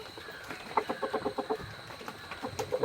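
Native hens in a backyard coop cluck in a quick series of short, repeated calls, fairly close, with a laying hen waiting to lay in the nest among them.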